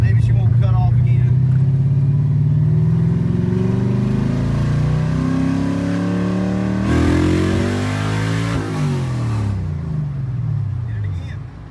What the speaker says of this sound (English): Get the RPMs up, roll into it, and see what it does.